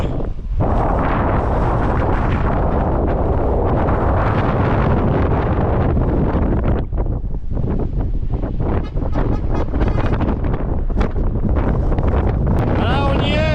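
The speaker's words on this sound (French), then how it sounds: "Voilà, on y est, dans le vent de la Patagonie." Strong Patagonian wind buffets the microphone along the Carretera Austral in southern Chile, a loud, continuous roaring rumble that never lets up across the whole stretch.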